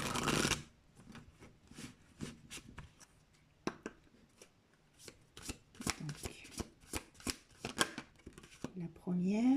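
Tarot cards being shuffled and drawn by hand, a run of quick crisp riffles and slaps in uneven bursts, close and clear, with a voice speaking between them.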